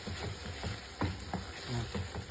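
Dried fish (tuyo) sizzles in a frying pan while being stirred, with soft crackling and a few close scraping stir sounds over steady frying.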